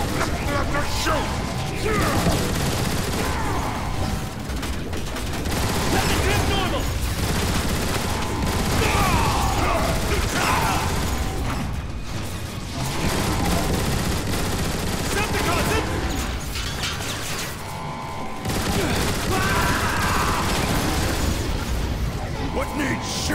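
Sci-fi weapon fire in the video game War for Cybertron, dense rapid shots and mechanical clatter running continuously under and between game voice lines, loud and busy throughout.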